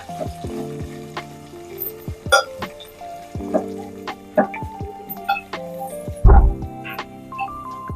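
Ground spice paste frying in hot oil with mustard seeds, cumin and curry leaves for drumstick dal, crackling in scattered pops and sizzles with a sharp burst near the end and a few stirring clicks.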